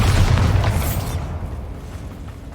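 A Bombarda spell explosion in Hogwarts Legacy, one loud close blast with a crashing burst that quickly fades into a softer rumbling tail.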